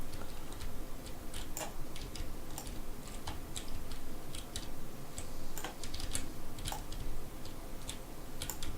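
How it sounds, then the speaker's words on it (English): Rapid, uneven clicking of a computer keyboard continues nonstop, crisp and nearby over a constant low hum, with no voices. "please bear with me and the clickety sound of my keyboard"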